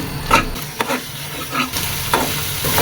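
Ground spices with salt, turmeric and chili powder frying in a pan while being stirred, a hissing sizzle broken by several scraping strokes of a spatula at an uneven rhythm, no talking.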